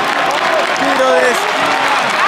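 Fans in the stands at a Santa Fe vs Once Caldas league football match applaud at a corner kick, a broad roar of clapping and crowd noise with nearby voices shouting over it.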